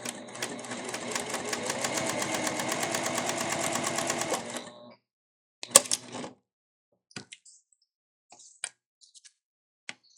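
An Elna ef1 semi-industrial sewing machine runs steadily for about five seconds with a fast, even stitching rhythm, then stops, leaving a few short mechanical clicks and handling knocks scattered through the quiet remainder.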